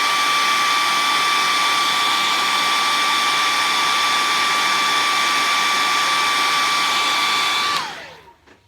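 A handheld dryer blowing air to dry chalk paste on a craft piece, a loud steady whirring hum with a high whine, running continuously and then spinning down as it switches off.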